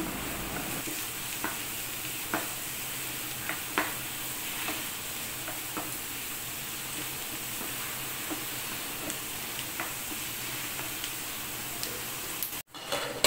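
Chopped onions sautéing on low heat for a hotel-style red chilli beef sukka, a steady soft sizzle with occasional spoon scrapes and stirring clicks, close and continuous until a brief dropout near the end.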